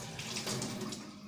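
Tap water running into a sink while hands are washed, a brief splashing stream heard close and fairly soft, with no talking.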